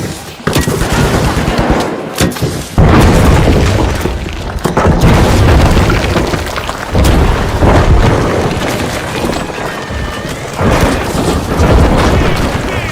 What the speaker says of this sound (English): Throwing move grenade.